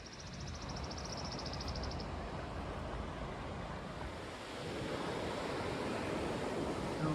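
Ocean waves wash onto an Oregon coast beach in a dense, continuous roar that swells slightly partway through, with some wind rumble and no voices.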